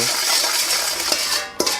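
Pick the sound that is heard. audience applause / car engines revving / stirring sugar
stirring sugar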